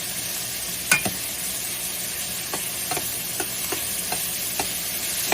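Beef strips for pepper steak searing in a hot pan, a constant close sizzle with scattered scraping stirs and light clicks of a utensil every second or so.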